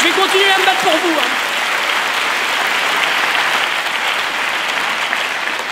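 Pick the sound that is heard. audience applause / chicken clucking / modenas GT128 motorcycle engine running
audience applause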